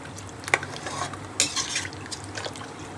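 A spoon stirs masala into chicken biryani inside an electric rice cooker, with scraping and a few sharp knocks against the pot over a low hum, close and without talk.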